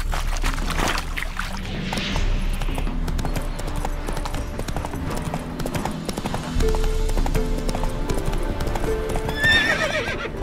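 Horse hooves clop steadily in The Witcher 3: Hearts of Stone over a continuous ambient background, with a horse whinnying briefly near the end.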